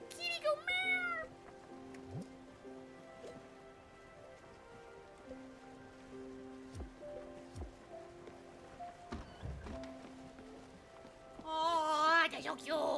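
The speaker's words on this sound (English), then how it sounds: "Kitty go meow!" Cartoonish cat meows from the video game Spiritfarer, a bright rising-and-falling call at the start and another burst near the end, over a soft steady rain-like ambience with faint game tones; no one speaks.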